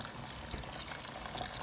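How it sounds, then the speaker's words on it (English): Boiling water is poured from a kettle into a pot of lamb and potato curry: a faint, steady liquid splashing and trickling lasting under two seconds, with no talk. "So now I'm going to put water. This is boiling water from the kettle."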